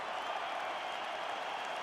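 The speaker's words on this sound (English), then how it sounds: "This crowd is going sick after what they saw in that previous round" Crowd cheering in the video game EA Sports UFC 5, a steady, broad roar of an arena audience with faint clapping, sustained at an even level without pause.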